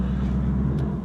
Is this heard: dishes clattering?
no